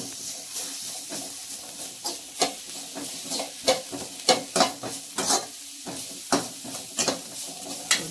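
Coarsely pounded ginger-garlic paste sizzles in a hot pan for a healthy jowar flour soup, with repeated scraping stirs of a spoon breaking over a steady frying hiss, close and fairly quiet.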